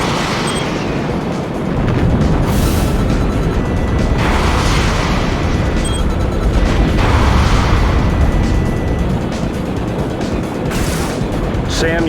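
Explosions tear through SAM sites in the combat flight game Jane's Advanced Strike Fighters: a loud, dense wall of rumbling blasts with several sharper bursts, continuous for the whole stretch, with a voice partly heard beneath.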